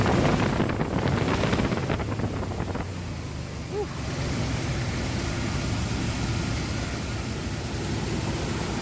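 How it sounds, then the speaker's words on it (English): Outdoors beside a 1997 Dodge Ram 1500 4x4 pickup, wind buffets the microphone with loud, gusty low rumbling that is strongest at first, then settles into a steady roar. "Oh my god, the wind."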